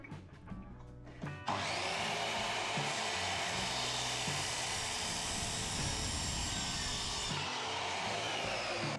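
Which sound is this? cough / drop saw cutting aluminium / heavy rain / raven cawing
drop saw cutting aluminium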